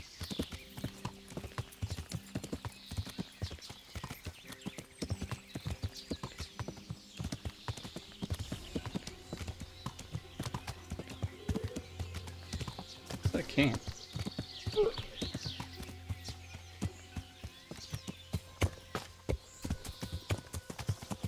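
Horse hooves in Kingdom Come: Deliverance clop in a steady trotting rhythm throughout, close and even, with a brief horse snort and a low hum beneath.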